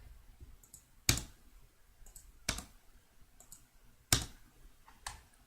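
Four sharp mouse clicks, spaced roughly a second or more apart, made while working in an Excel dialog, each a crisp close click over faint room hiss with no talking.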